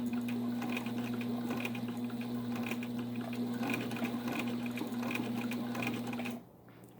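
A vintage Singer 15 sewing machine fitted with a single-bracket step-down pulley speed reducer stitches steadily at close range with a constant motor hum and even needle rhythm, stopping abruptly near the end.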